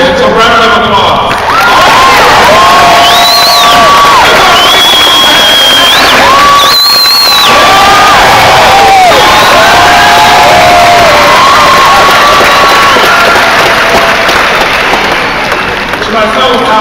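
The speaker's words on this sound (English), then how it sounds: "Can we give the graduates a round of applause?" A large graduation audience at the Lansing Community College commencement for the class of 2013, applauding and cheering loudly and continuously, with whoops and high shouts rising over the dense clapping throughout.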